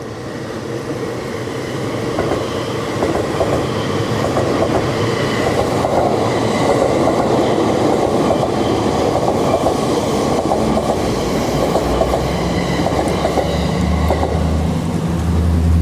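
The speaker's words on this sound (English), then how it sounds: "That's the limited express for the Joban line," A Joban Line limited express train passes close by in Tokyo, a continuous loud rumble of wheels and rhythmic clickety-clack on the rails lasting throughout, with faint wheel squeal.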